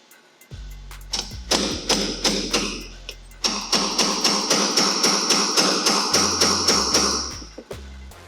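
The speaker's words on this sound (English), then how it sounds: "give it a couple good smacks. Once it's presented, grab your bigger punch." A hammer drives a punch to seat a pin in a rifle gas block: a close, steady series of sharp metallic strikes, about two per second, with some pauses, and no talk.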